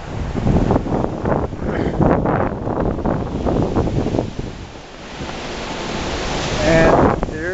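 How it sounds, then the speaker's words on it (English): A strong Nor'easter snowstorm gust roars across the microphone outdoors, rumbling, buffeting wind that swells and dips in heavy waves, loud and continuous. "is massive blast of wind right now"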